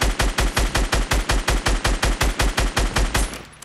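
An automatic gun fires in the video game Fortnite, a steady rapid burst of about twenty evenly spaced loud shots that ends with a fading tail, with no voices.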